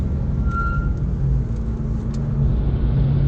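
A BMW E92 M3 CS drives on the Nordschleife, its engine a steady, loud low rumble heard from inside the cabin, with little variation across the stretch.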